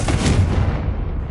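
A Confringo fire spell explodes in Hogwarts Legacy as a loud, close, deep booming blast that rolls and fades away over about a second, with no voices.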